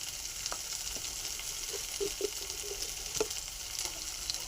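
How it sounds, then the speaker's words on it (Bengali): Spice paste for a pangas fish curry fries in a pan with soft, faint crackling pops and light stirring scrapes, quiet and irregular, no voices. "মশলা এবার কষিয়ে নেব"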